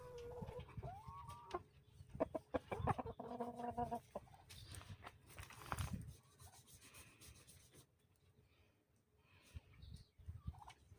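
Rhode Island Red hens and chicks cluck and squawk close by in a coop, with bursts of calls and a few sharper cries between quieter rustling stretches, and no voices present.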